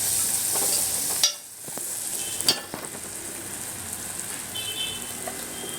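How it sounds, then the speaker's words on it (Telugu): Curry leaves and ginger paste hiss and crackle in hot oil in a pan, with a couple of sharp spatula knocks and scrapes over the steady sizzle. "కొంచెం అల్లం పేస్ట్ కూడా వేసుకొని బాగా ఫ్రై చేయాలండి."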